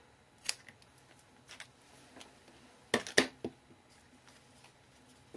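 Small scissors trim the end of a handmade fabric dress tag with a few quiet, crisp snips, including a quick double cut, spaced out against near silence.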